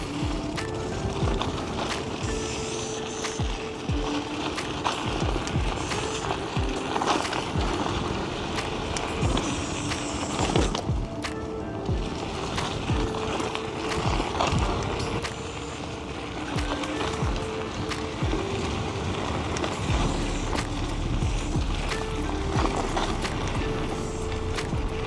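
A KuKirin G3 Pro dual-motor electric scooter rides off-road through rough ground and puddles, with a continuous rumble of tires, rattling bumps and wind buffeting throughout.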